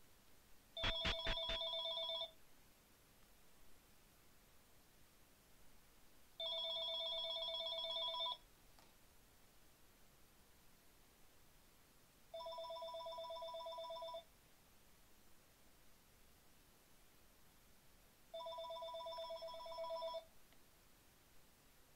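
A telephone rings in four evenly spaced electronic bursts, each about two seconds long, moderately loud and alone with no voices.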